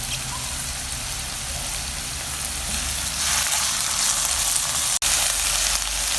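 Chopped spring onions sauté in hot oil, a soft steady sizzle that swells slightly partway through and keeps going, close by with no talking.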